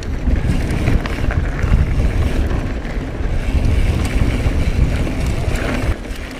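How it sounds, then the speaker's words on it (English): Wind buffets the microphone during a mountain bike ride on a dirt trail loop, a loud, continuous low rumbling roar with no talking. "Windy."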